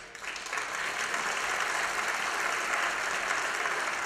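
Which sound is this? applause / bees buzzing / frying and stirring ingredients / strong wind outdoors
applause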